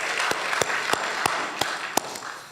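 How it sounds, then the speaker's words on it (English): Sparse, evenly spaced claps ring out in a church gathering, each sharp hand strike distinct against a quiet, slightly reverberant room. "Give him a round of applause."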